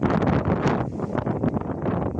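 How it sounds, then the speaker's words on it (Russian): Steady, loud gusts of wind buffeting the microphone, a continuous roaring rush with brief swells and dips. "Ой, как ее бедную треплет ветер сегодня."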